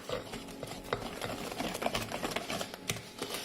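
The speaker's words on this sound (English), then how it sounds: "Then stir to the consistency of like pancake batter." Peach cobbler batter is stirred in a bowl, with a quick series of soft, irregular scraping and tapping strokes, close and faint.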